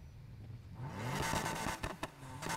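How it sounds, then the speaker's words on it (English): A BMW M3 E46 with ultimate parts in Need for Speed Heat revs up, its exhaust swelling from a low rumble into a loud, rising engine note with brief crackles near the end. "And the best exhaust sound."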